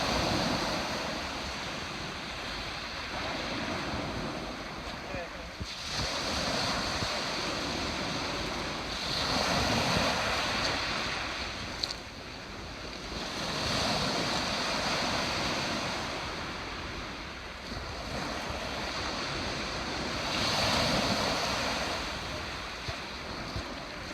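Ocean waves break on the shore at Sizewell during a sole fishing match, surf rising and falling in slow surges every few seconds, with steady wind noise over the microphone and no voices.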